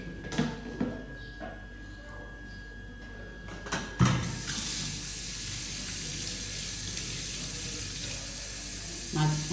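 A child washes dishes and a cup at a kitchen sink, with scattered clatters of dishware and then a steady gush of running tap water that continues to the end, under occasional adult talk.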